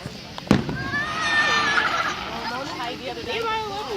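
Fireworks at a display in Maumelle going off with a sharp bang, followed by a whistling, crackling burst, while people talk nearby.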